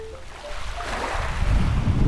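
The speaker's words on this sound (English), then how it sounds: "Hopefully you can see in here the sloughing of the waves." Calm sea waves lap and slosh on a drizzly day, a soft wash that swells gradually louder, mixed with wind rumbling across the microphone.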